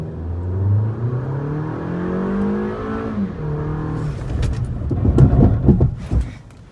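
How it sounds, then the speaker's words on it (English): A Toyota RAV4 at the New York International Auto Show thrill ride accelerates at full throttle, its engine note rising steadily in pitch, then braking hard with a loud, rough, clattering rumble near the end. "we're gonna go full throttle and then jam the brakes pretty hard too"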